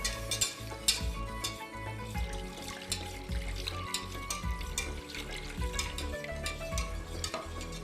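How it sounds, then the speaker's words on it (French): Tarhana soup stirred in a cooking pot, a steady close run of spoon scrapes and liquid sloshing with bubbling, continuous throughout with no talk. "On continue de mélanger"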